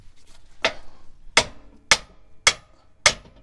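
A hammer gently taps a front lower control arm into place on a Jeep Wrangler JL, giving five evenly spaced, sharp metallic knocks at close range in an otherwise quiet space.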